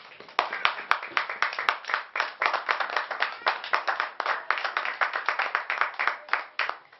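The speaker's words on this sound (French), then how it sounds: "est-ce qu'on peut acclamer la parole de Dieu?" A church congregation claps in praise of the word of God, a steady, fairly loud round of applause that carries on without a break, with a few voices faintly mixed in.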